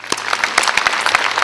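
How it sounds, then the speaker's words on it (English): Brief applause at a university commencement ceremony, a short run of fairly close, distinct claps. "Let's give you a big round of applause."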